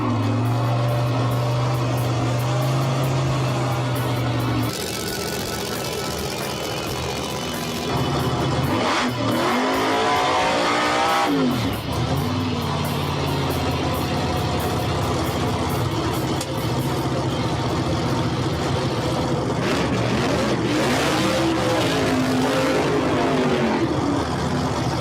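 A race car engine revs hard and rough after a burnout on a drag raceway, with loud sustained roaring, a brief drop to idle, and sharp rising and falling throttle bursts close by.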